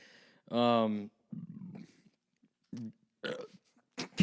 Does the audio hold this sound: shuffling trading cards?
no